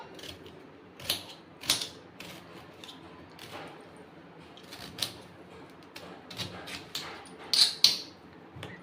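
A knife chops beetroot into small pieces on a board, giving scattered soft thuds and taps at irregular intervals over quiet background noise, fairly close but faint.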